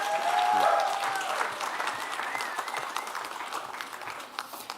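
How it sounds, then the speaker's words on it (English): Audience applause at a defective concrete conference, a steady round of clapping that begins strong with a few whistles or cheers early on, then gradually thins and fades over about five seconds. "Round of applause"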